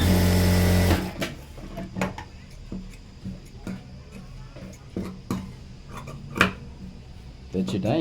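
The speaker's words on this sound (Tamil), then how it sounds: "இந்த இடத்துல இந்த பீஸ் வச்சு தைக்கிறேன்" Sewing machine stitching a cut pocket piece onto fabric, heard as a steady mechanical whir with regular ticking clicks, briefly louder at the start and end, with a voice speaking over it.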